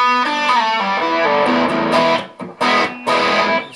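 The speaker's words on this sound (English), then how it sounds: "we're going to turn the distortion volume, not the master but the volume, from 2 up to about 4" Electric guitar played through a Butler Silver Hammer point-to-point Plexi-style tube amp with raised distortion volume, giving a loud, saturated run of chords and notes with brief pauses, heard alone and close.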